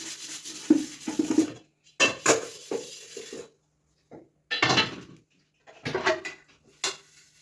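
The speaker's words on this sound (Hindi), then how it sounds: "5 मिनट में मुझे बर्तन धोने हैं" Dishes, pots and pans are washed in a home kitchen: bursts of clattering metal and cutlery knocks come in irregular clusters with short quiet gaps, close and fairly loud.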